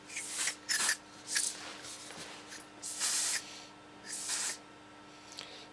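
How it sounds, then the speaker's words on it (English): Several short hissing bursts from an aerosol can of smoke spray, close up, separated by brief pauses over a faint steady hum. "It's actually smoke spray that Maplin sell."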